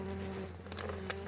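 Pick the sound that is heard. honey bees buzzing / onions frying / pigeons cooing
honey bees buzzing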